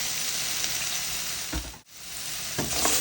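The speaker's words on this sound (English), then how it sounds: "Saute that pumpkin and garlic. So in goes the pumpkin and the garlic." Pumpkin and garlic hit hot olive oil in a pan, a loud, close hiss that dips sharply for a moment midway and then resumes, with a few stirring knocks.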